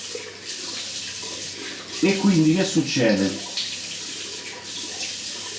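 Running water splashed onto the face during a wet shave with a Razorock razor and shaving brush, a steady tap flow with a brief burst of splashing in the middle while someone talks.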